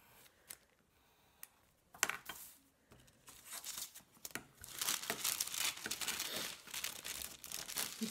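Paper being cut with scissors close by: sparse snips and crinkles at first, then a denser run of crisp cutting and rustling toward the end, with no voices.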